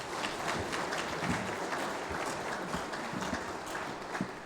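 A church congregation at a praise and worship service claps together in a dense, continuous round of applause that stays even throughout, with no clear voices on top.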